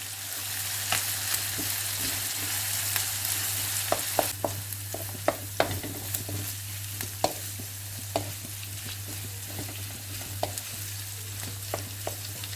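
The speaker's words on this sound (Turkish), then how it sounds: "Yavaş yavaş tavuklarımı da karıştırarak kavurmaya devam ediyorum." Chicken and peppers sizzle steadily in a hot pan with a low hum underneath, while a utensil scrapes and clicks at irregular intervals as it is stirred.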